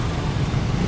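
Dense street traffic in Ho Chi Minh City, Vietnam, makes a loud, close, continuous roar of engines in a brief burst.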